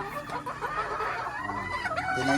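Laying hens clucking close by in a farm flock, a dense overlapping chorus of short calls heard alone without speech.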